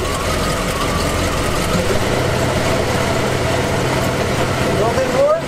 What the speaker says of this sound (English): first we're gonna put it into reverse and give it some gas about half throttle